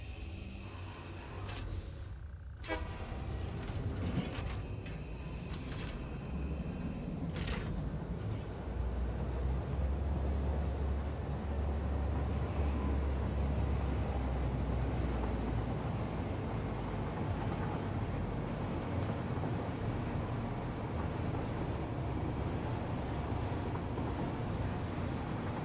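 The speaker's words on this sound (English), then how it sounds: "We need to ride this train." A steady low rumble of a train riding along tracks in the Satisfactory video game, droning continuously with faint mechanical clatter near the start, alone without talk.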